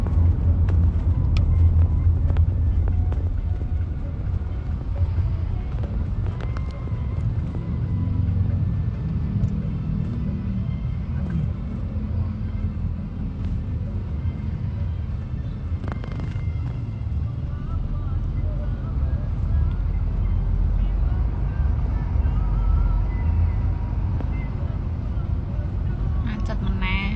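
Vehicles creep along in a road traffic jam, a low, constant rumble of engines with voices talking over it throughout.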